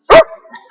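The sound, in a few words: dog barking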